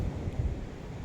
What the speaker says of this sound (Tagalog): mahangin pati, no?